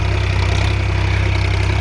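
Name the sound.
Massey Ferguson 8055 tractor running, pulling MB plough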